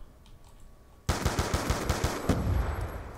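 Rapid automatic gunfire from the PC shooter Black Ops 2, with a FAL rifle, bursting in loud and close after a second of quiet and rattling steadily in quick repeated shots until the end.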